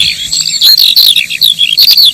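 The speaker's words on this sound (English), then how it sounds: "the sound of high summer in Britain, the song of the skylark." Bright, liquid trilling birdsong of a skylark in the Mendip Hills, Britain, pours out continuously, high-pitched warbles and chirps tumbling over each other with no other sound.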